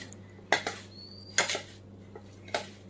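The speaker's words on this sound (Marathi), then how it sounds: "आता हे आपण मस्त सगळं मिक्स करून घेऊया" A spoon clinks and scrapes against a bowl while sugar is stirred into karanji filling, in three short bursts about a second apart, close and fairly soft, with no talk.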